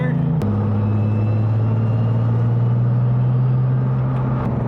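Porsche 996/997 gearbox fitted with a Numeric Racing transmission bundle, giving a loud, steady mechanical whine over low drivetrain and road rumble throughout, with a brief pitch step near the start.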